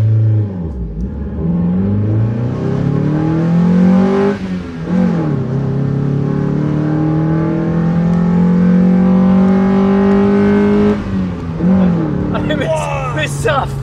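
A Mazda Miata with a Tenzo R direct intake kit revs hard and close, the engine pitch climbing and falling through several long pulls with a loud, rasping induction roar.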